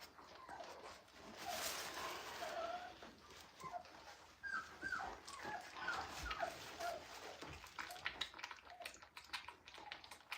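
Two-and-a-half-week-old Cane Corso (Italian Mastiff) puppies whimper and squeak softly, thin high cries scattered through quiet background rustling, close by.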